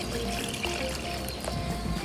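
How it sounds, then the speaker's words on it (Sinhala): Water poured into a cooking pot for boiling horse gram, a steady close splashing trickle running continuously for about two seconds. "මම පුතේ මේක තැම්බෙන්න ප්‍රමාණවත් විදිහට වතුර දා ගන්නවා."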